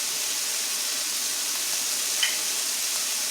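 Smoked paprika, oregano, coriander, onion powder and garlic powder sizzling in hot fat in a pan, a steady close hiss with no voices.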